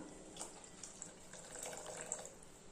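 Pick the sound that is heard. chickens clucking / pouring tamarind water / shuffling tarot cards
pouring tamarind water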